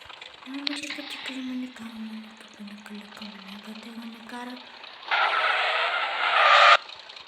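A car in GTA 5 drives and skids, with engine hum under excited talk, then a loud sustained burst of tire screech near the end.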